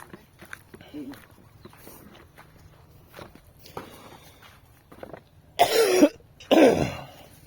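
Two loud, harsh coughs close up, one after another near the end, following quieter shuffling and faint background sounds.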